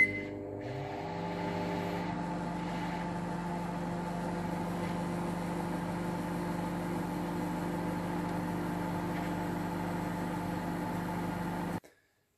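A microwave oven runs with a steady, close mechanical hum that holds evenly for about eleven seconds before cutting off abruptly into silence.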